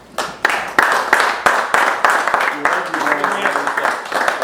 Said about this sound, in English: applaud to the losing team.